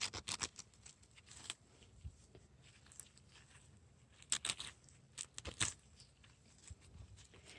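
Scissors snipping through the roots of a root-bound agave during repotting: scattered crisp cuts and rustling close by, irregular and fairly quiet, with a few louder clusters of snips.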